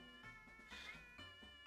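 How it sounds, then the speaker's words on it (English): A pet cat meows indoors, a couple of drawn-out, whiny cries close to the microphone, quiet overall with no talking. "I hope you guys are hearing his meows."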